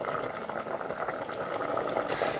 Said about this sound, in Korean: 장조림이 아주 맛있게 끓고 있는데요